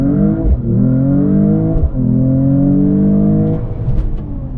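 Car engine revving with rising and falling pitch sweeps, loud and close, in two or three strong pulls that settle toward the end.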